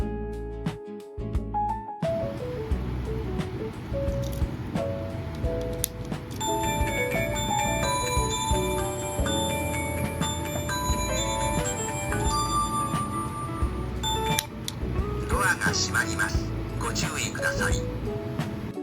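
A bright, light chiming melody of bell-like tones from a Japanese train departure chime plays steadily, with background voices and ambient bustle underneath.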